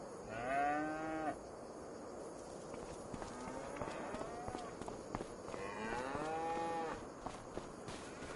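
Cattle moo on a farm in Farming Simulator 25, with two long, drawn-out lows about five seconds apart over a steady faint background of livestock and ambient farm noise.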